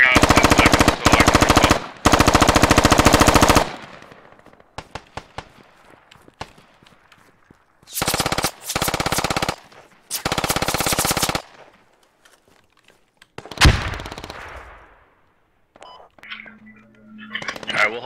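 Gunfire in the video game Squad, with loud bursts of rapid automatic fire close by, separated by quieter single shots and distant pops.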